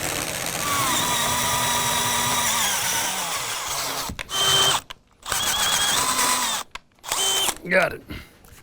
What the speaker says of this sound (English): We're gonna do something crazy and take a chance that we can drill this bigger.